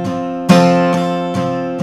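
Acoustic guitar strummed hard, every stroke at full loudness, three sharp bright strums ringing out over about two seconds, each one decaying slowly before the next hits.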